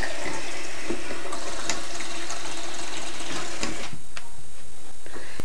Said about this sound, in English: we're going to run some nice cold water on that.